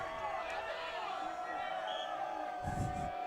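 Field hockey crowd at a high school semifinal between Wilton and Norwalk, a low, steady murmur of spectators with a louder burst of disgruntled reaction near the end, under continuous talking.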